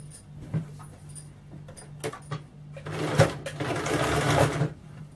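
A sewing machine stitches the armhole of a kameez in short starts and stops, then runs in a longer steady burst toward the end, close up with no talking.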